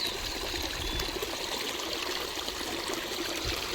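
Water flowing out of a lake trickles steadily nearby, a soft continuous babble with no voices.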